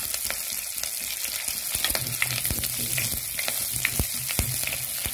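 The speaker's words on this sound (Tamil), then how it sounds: "நல்லா வதங்கட்டும்" Drumstick leaves sautéing in a pan for a dried-fish and drumstick-leaf curry, giving a steady close sizzle and fry with sharp scraping clicks of stirring scattered throughout.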